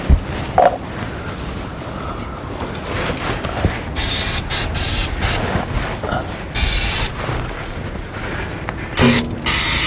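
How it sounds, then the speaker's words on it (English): Crown penetrating oil is sprayed from an aerosol can onto the pivot points of an electric vehicle step in several hissing bursts of varying length, close and loud, separated by short pauses. "I'm just going to start spraying all these pivot points"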